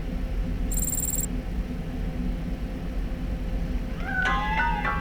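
A cat meows in the Robocop: Rogue City video game, a single rising-and-falling meow near the end over a steady low ambient rumble, after a brief high electronic tone early on; no voices.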